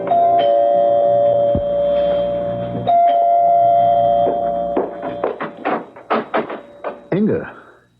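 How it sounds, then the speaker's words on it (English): Doorbell in a radio crime drama, heard as a sustained tonal chime that gives way to a series of sharp knock-like hits near the end, all close and fairly loud. "You can ring the doorbell."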